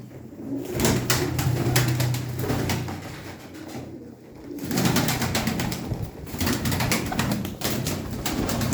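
Pigeons from a prized breeding stock coo steadily and loudly close by, a dense overlapping throaty rumble running throughout with brief clatter and tapping mixed in, and no talking.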